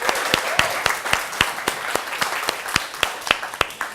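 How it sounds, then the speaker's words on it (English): A small audience claps after a meetup talk, sparse individual hand claps ringing out in a loose, uneven rhythm, close and fairly loud with no voices over them. "Give him a big round of applause"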